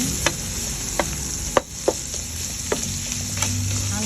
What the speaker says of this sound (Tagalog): Lutuin lang natin ang giniling